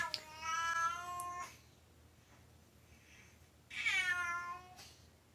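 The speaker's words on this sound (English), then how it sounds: "My cat." A house cat gives two drawn-out, clear meows close by, with a quiet pause between them.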